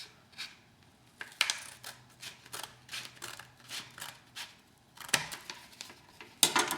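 Scissors snip paper while cutting an edge for a paper M4 model, a series of quiet, close, irregular crisp clips and rustles with short gaps between them.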